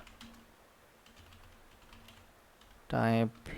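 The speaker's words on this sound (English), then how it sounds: "So now here I'll just type" Typing on a computer keyboard during a Windows coding session, heard as faint, sparse clicks over quiet room tone, followed near the end by a brief, loud tonal burst.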